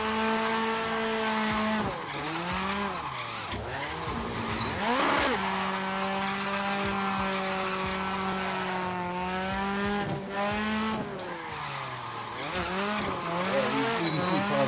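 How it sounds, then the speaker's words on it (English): A BDC S14 street-spec drift car in Assetto Corsa revs hard under load, the engine note rising and dipping through slides while a steady tire squeal rides underneath, loud and continuous throughout. "it seems to be drifting okay"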